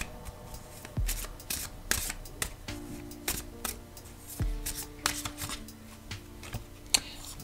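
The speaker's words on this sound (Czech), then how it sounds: "Vytáhneme tady kartu" Tarot cards are shuffled close up in quick, crisp riffling bursts with sharp flicks and soft slaps, loud and rhythmic, with no talking.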